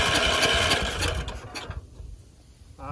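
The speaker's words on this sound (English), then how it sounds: "and then so it cranks. That's a good sign." A tractor engine cranks over with a fast, loud, rhythmic chugging for about a second and a half, then the cranking dies away and only faint rattles remain.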